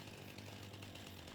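A chainsaw runs steadily in Farming Simulator 25, cutting down bushes, its engine droning at a constant loud pitch with a raspy buzz and no talk over it.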